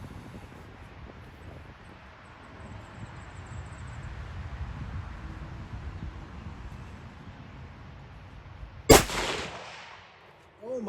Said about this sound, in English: I'm shooting at the bullet hole that was made with the very first shot.